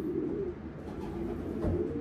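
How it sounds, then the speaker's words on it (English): A racing pigeon hen softly coos in a few low, rounded, repeated calls, close by, over a steady background hum with no talking. "This was a gift bird from Sam Haslam."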